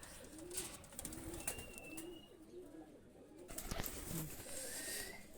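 A pair of Pakistani high flyer pigeons coos in repeated soft, rolling phrases, steady and close, with a faint outdoor hiss behind them and no talking.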